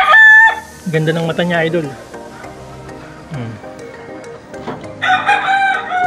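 A young gamecock stag crows loudly at close range, opening with one sharp call, followed by brief clucks and another crow near the end, with someone talking in between.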